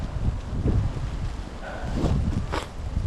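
Strong wind blowing outdoors in Canada, a constant rough roar buffeting the microphone, with faint rustling and a few brief higher sounds in the background, no speech.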